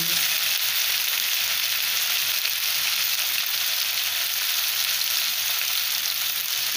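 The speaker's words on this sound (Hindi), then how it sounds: "ये हमारा प्याज अब फ्राई हो चुका है, इसमें अब टमाटर डालेंगे। इसमें लहसुन और अदरक का भी पेस्ट डाल देंगे।" Tomatoes and ginger-garlic paste frying with browned onions in a pan for a soya chunk pulao, a loud, even, unbroken sizzle from start to finish with no voices.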